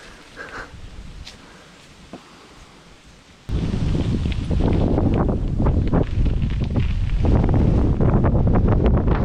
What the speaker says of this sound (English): Ooh, she's a bit windy tonight.